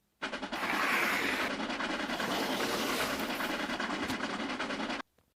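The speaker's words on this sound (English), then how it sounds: "I think that's Abercrombie's new engines," A train rolls steadily along the rails with a dense, rumbling clatter, loud and continuous for about five seconds before cutting off abruptly.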